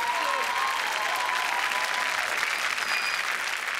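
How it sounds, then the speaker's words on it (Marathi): Sustained audience applause at a Marathi TV comedy show taping, steady and dense, a big studio crowd clapping together throughout at an even, fairly loud level with no talk over it. "जोरदार टाळ्या झाल्या पाहिजे, जरा जोरदार."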